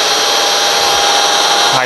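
A cordless vacuum's brush roll spins at its low setting on a Shark Rocket Pet Pro or Dyson V7 Motorhead, giving a steady, close whirring hum with a constant tone and no pauses, cutting off at the very end.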